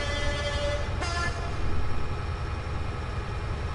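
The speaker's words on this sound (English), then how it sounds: "And we're about to pass another train." Another train passes on the Settle to Carlisle railway in Train Simulator, heard as a steady, loud rolling rumble with a sharp transient near the start. A short horn toot may sound as the trains meet.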